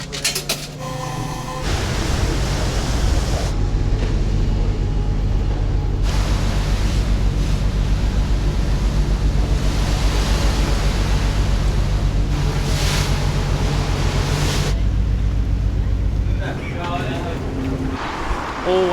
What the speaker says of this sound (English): Always a good ferry crossing when I don't throw up.